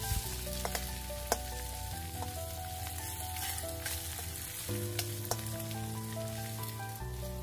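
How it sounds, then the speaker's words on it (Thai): Egg fries in a hot wok for Thai stir-fried flat rice noodles, with a steady loud sizzle and crackle. Light scrapes and taps come from a spatula spreading it, and music plays under the sizzle. "พอใส่ไข่แล้วก็ให้เพื่อนๆ นะคะใช้ตะหลิวเกลี่ยไข่ให้กระจายทั่วๆค่ะ"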